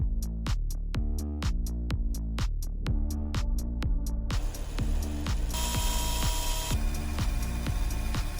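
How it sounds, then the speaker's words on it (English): A small power drill boring into a plastic LEGO figure's head for a custom toy, heard as a steady rhythmic clicking whir that grows harsher and denser partway through, continuous and close, with no speech. "but I still need to do some drilling"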